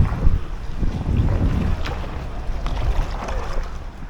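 Wind funnels along a canal past a kayak, gusting as a rough, buffeting roar against the microphone with faint water movement beneath, no talking.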